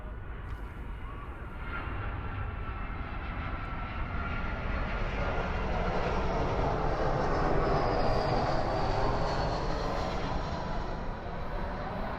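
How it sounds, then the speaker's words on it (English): A fixed-wing airplane flies overhead at an outdoor soccer final in Newark, its engine roar a broad, steady rumble that swells and slowly fades over about twelve seconds, loud and with no talk. "despite the airplane noise above us"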